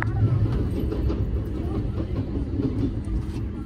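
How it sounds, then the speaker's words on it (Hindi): Padmavat Express passenger train rushing past at speed, a steady low rumble with faint clickety-clack of wheels on rail joints, heard continuously and fairly loud from close by. "ये पद्मावत एक्सप्रेस जा रही है, देखिए क्या स्पीड से प्रायोरिटी मिली पद्मावत एक्सप्रेस।"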